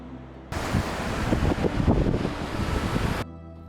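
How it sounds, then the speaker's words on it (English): Strong, gale-force wind at Sorrento Beach on a cold day roars as a steady, loud broadband rush for about three seconds, buffeting the microphone before cutting off abruptly. "It is blowing a gale and about 10 degrees."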